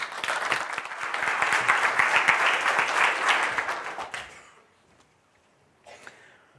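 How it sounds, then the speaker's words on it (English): Audience at a MySQL conference applauding a speaker as he comes on stage, a dense crowd clapping for about four seconds that then fades out, with a brief noise near the end. "Give a round of applause to Don MacAskill."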